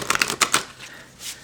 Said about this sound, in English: So for me, this is a corner shuffle.